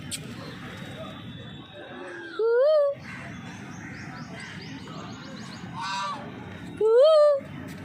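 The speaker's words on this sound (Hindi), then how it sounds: "कितनी सारी बतखें हैं" Ducks call from the pond at Guru Gorakhnath temple in Gorakhpur, giving two loud, nasal bursts of honking a few seconds apart, with fainter calls between them over a low outdoor background.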